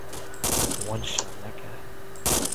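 Gunfire in Arma 2 comes as two separate loud bursts of rapid shots, one early and one near the end, with radio-style voices and game noise carrying on underneath.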